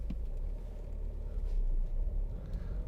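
A 2017 Ford Focus 1.5 TDCi Titanium X is driving along a road, a low steady engine and road rumble heard from inside the cabin, with no talk over it.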